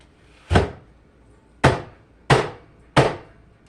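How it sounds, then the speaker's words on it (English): A knife chopping through half an onion on a kitchen board: four distinct, sharp chops, the first alone and the last three in a quicker, uneven rhythm, close and clear with no talking. "I've got half an onion here to chop yet"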